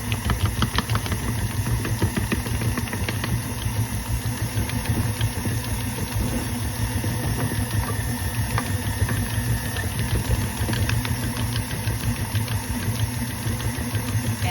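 An electric mixer blends shea butter with coconut oil, a continuous close motor drone with a fast rattling buzz that runs steadily throughout without any voices.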